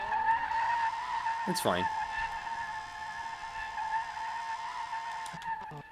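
A BMW M5 E28 with a V10 swap in SLRR slides sideways in a drift, its engine droning steadily while a short tire skid squeals near the start, and someone speaks briefly over it.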